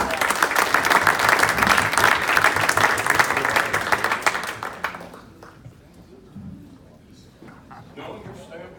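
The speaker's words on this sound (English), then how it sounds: "how about a round of applause?" A room of club members at a perfect attendance pin ceremony breaks into sustained, dense applause for about five seconds, then it fades out into quiet murmuring and a voice.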